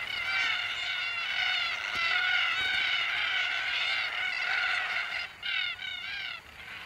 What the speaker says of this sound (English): Red-tailed black cockatoos join in the fun.